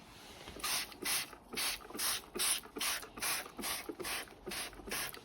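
A trigger spray bottle of mold removal product pumped in a steady rhythm, roughly a dozen short hissing sprays each with a faint mechanical click, close and fairly quiet.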